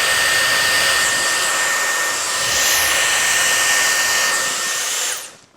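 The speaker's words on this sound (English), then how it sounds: "how straight you have to get it with just a blow dryer" A blow dryer runs on hair during an at-home silk press with a loud, steady high-pitched whoosh, its airflow shifting slightly before it switches off at the end.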